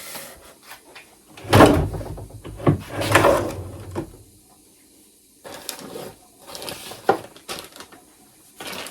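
Drawers opened while decluttering a room: several loose knocks and sliding clunks come in bursts close by, with two louder handling thumps early on and quieter rummaging later, with no talk.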